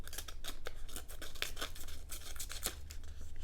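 Small keychain multi-tool scissors snipping through copy paper, a rapid series of close, crisp cutting strokes with a steady rhythm and no talking.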